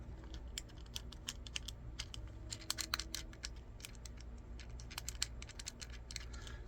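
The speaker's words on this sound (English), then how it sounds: "Any movement and it rocks back and forth, clicks back and forth." Loose top button on a budget Temu action camera clicking and rattling as the camera moves, a quiet, rapid, irregular run of small plastic clicks with no talking.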